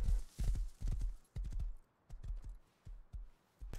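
Horse hooves clip-clop in a steady, evenly spaced series of close, distinct impacts in the survival game Rust, with no voices over them.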